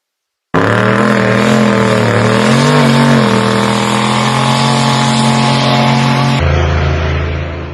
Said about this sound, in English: here we are, we're cruising down the road